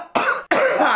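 Two harsh coughs from one person, close and loud, the second following quickly after a brief break.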